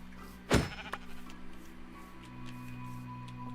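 A sheep in the video game Minecraft gives a single loud, close bleat near the start, then only a quiet steady hum continues.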